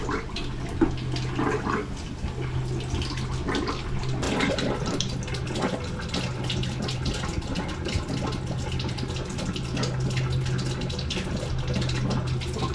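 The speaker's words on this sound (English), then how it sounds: "Filling up the hot water tank here." Water runs steadily from a tap into the hot water tank of a food trailer, a continuous close rushing and splashing flow with a low hum beneath, unbroken throughout and without talking.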